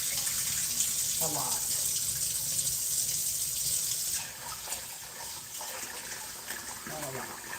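Tap water runs steadily into a pot while rice is rinsed in a kitchen, with a constant hiss and splash and a person speaking over it.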